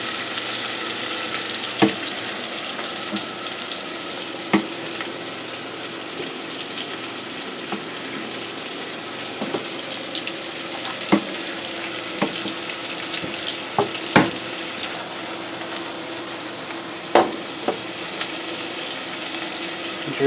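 Onions for risotto sauté in a pan, giving a steady close sizzle and fry hiss for the whole stretch, broken by scattered clicks and light knocks from stirring, with no voices.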